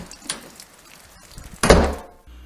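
An apartment door opens and thuds as a man enters, a single solid knock of wood and latch after some quieter shuffling, heard alone with no talk.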